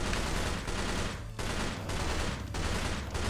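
Rapid gunfire from a zombie shooter video game rattles in dense, continuous automatic bursts, loud and close, with no talking.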